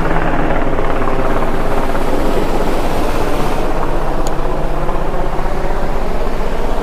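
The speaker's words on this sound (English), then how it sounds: "Chopper, man." A helicopter passes over a beach where people are fishing, its steady rotor thrum loud and continuous throughout, with a low engine drone and surf-like broadband noise underneath.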